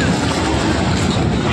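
Big sea waves crash at Bakkhali beach, a loud, continuous surf roar mixed with strong wind buffeting close to the microphone.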